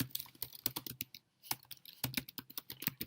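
Fingers typing on a computer keyboard, quick irregular bursts of close key clicks with one brief pause midway, no voices.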